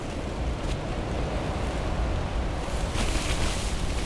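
Blizzard wind gusting against a pitched tent during the 2013 Nemo blizzard, a continuous loud rushing roar with buffeting and a stronger surge near the end, no speech.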